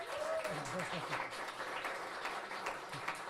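Audience at an open music session applauds a newly hired station manager, a soft, steady patter of clapping with voices talking underneath.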